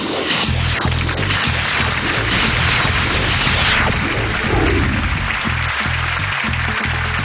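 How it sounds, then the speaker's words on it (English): A game show studio audience applauds loudly and continuously, a dense steady wash of clapping close by with no talk. "that enthusiastic applause you hear"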